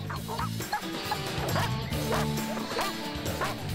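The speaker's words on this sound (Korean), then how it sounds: "정체모를 개 짖는 소리가 사방을 울립니다" Many dogs bark at once at a police dog training center on a hillside, a dense overlapping chorus of barks and yips echoing continuously from several directions.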